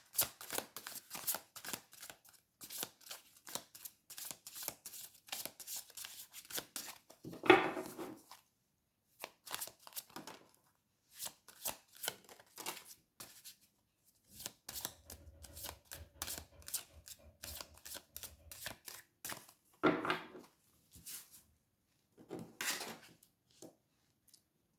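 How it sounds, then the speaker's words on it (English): Tarot cards shuffled and drawn by hand in a reading about a missing woman, with a long run of dense riffling taps and card snaps, some louder slaps and pauses, close and with no talking. "what happened to Susan? 3 cards"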